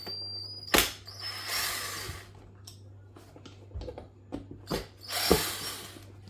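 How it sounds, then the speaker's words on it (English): Screws being undone by hand on an AlfaBot X8 robot mechanism during disassembly: a few sharp clicks and ratcheting scrapes, with short bursts of tool noise between quieter gaps, close by over a steady low hum. "You need to unscrew these two screws."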